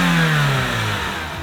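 A Suzuki Swift GTI's small twin-cam 16-valve engine revs up and settles, the motor note rising then easing off over a second or two, close and fairly loud.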